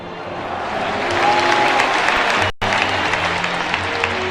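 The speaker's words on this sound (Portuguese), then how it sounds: "todos pudessem dar uma salva de palmas àqueles irmãos que se foram" An audience claps in tribute to the victims of the Chapecoense LaMia plane crash. The applause is a sustained, fairly loud wash that builds slightly, with a brief dropout partway through and faint voices in the crowd.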